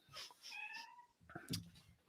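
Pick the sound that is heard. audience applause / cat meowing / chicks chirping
cat meowing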